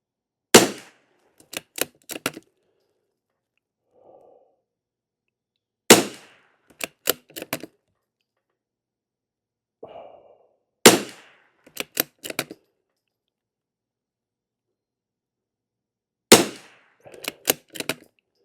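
Sharp, loud rifle shots from CCI SV .22 ammunition ring out in bursts of several rapid cracks, each group separated by pauses with faint rustling between them.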